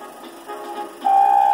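Electronic tones from an ultrasonic tester probing a crankshaft casting: a soft, wavering hum that jumps to a loud, steady pure beep in the second half.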